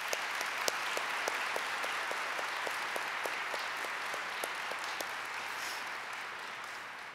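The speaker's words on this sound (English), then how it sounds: "Let's give him another round of applause." An audience at the OCALICON 2013 conference keynote applauds continuously, a broad wash of many hands clapping with a few sharper nearby claps standing out, holding steady before easing slightly at the end.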